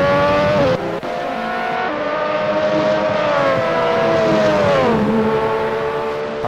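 Lotus 98T Formula 1 race car engine in a racing game at Riverside, screaming at high revs down a straight, a steady loud whine that dips briefly with a gear change and then falls in pitch as the car decelerates.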